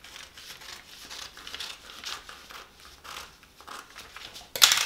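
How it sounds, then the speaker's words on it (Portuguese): Scissors cut through a paper sewing pattern for the front of a sleeveless blouse, making quiet, close crinkling snips and rustles, with a sudden louder paper crackle at the end. "agora eu vou recortar pra vocês verem, principalmente aqui a parte da frente"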